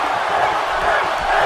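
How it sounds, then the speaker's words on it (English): A large arena crowd roars steadily for a wrestling main event in WWE 2K18, a dense, loud, continuous wall of cheering and shouting with no pauses. "This crowd is big time into this main event"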